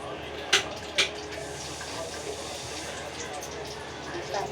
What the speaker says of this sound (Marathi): आता आपण तेल टाकतो